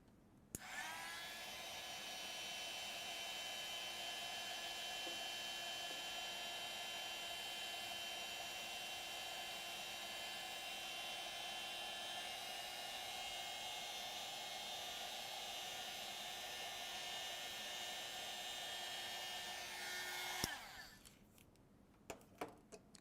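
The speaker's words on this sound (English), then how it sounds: "I'm going to take my heat gun and I'm going to dry the head of our peacock" Heat gun blowing to dry acrylic paint on the head of a peacock painting, a steady whooshing fan-and-heater roar held continuously for about twenty seconds, close up, before clicking off.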